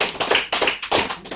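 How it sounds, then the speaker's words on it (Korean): A few quick, sharp hand claps or taps in an irregular rhythm, close and clear with no talking over them. "박수를 치잖아요."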